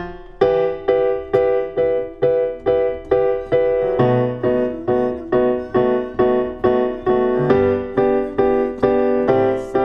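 Piano playing the chorus of a song, a steady rhythm of repeated loud chords with a bass note shifting under them, alone with no talk.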